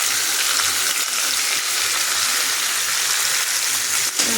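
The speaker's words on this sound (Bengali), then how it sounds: "দিয়ে দেবো মশলাগুলো ধনের গুঁড়ো নুন হলুদ গুঁড়ো আর কালারের জন্য একটু রেড চিলি পাউডার" Coriander powder, salt, turmeric and a little red chili powder fry in hot oil in a home kitchen, giving a steady, dense sizzle that stays close and loud throughout with no voices.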